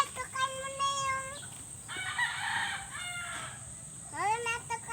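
Chickens crow and cluck close by in a farmyard, a rooster's harmonic crow opening and returning at the end, with scattered clucks and low rustling between them.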